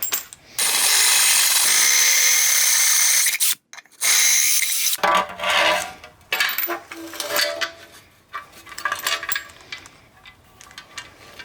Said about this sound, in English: So I'm gonna have to drill these out a little bit.